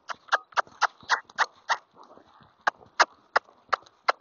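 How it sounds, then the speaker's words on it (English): A Missouri Fox Trotter horse trots, its hooves striking in a quick, fairly even rhythm of sharp thuds, close and distinct against a quiet background. "Now he's trotting."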